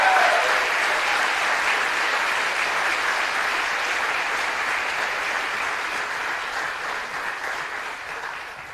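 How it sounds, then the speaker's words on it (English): Steady applause from the crowd at a Formula SAE electric vehicle design review and awards ceremony, honoring McGill's car number 233 for first place in design. The clapping is even and sustained and fades slightly toward the end. "let's give car number 233, McGill, a round of applause for first place design finish"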